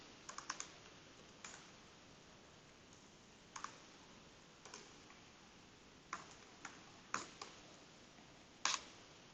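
Sparse, faint keystrokes on a computer keyboard, a few quick taps and isolated clicks spread over several seconds against quiet room tone.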